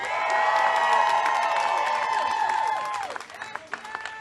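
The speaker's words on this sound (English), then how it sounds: "let's give them a big round of applause" A crowd at a Medicare for All bill reintroduction event in Washington, D.C. applauds and cheers loudly and steadily with whoops, under a sustained musical tone, then the noise thins into scattered claps near the end.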